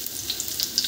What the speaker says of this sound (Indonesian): lalu kita siram kuahnya